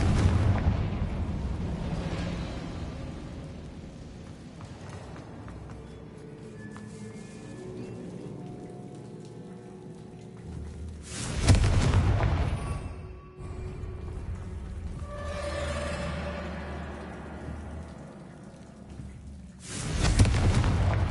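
Confringo blasting spells go off in a Harry Potter video game, giving two loud, booming explosions several seconds apart over a low, rumbling ambient background.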